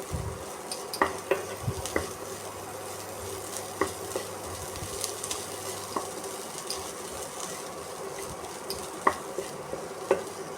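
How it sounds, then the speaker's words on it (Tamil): Butter corn being stirred with pepper powder in a pan, a faint sizzle under repeated light scraping and spoon taps against the pan at irregular intervals. "இது மாதிரி நல்லா பெப்பர் பவுடரை மிக்ஸ் பண்ணி விடுங்க"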